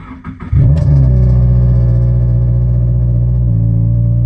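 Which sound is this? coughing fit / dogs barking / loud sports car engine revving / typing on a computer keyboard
loud sports car engine revving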